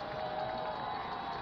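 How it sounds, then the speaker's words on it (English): A large crowd at a college football game roars in a steady, distant wash of cheering that fills the stadium, heard briefly and alone. "The crowd getting behind the men in black."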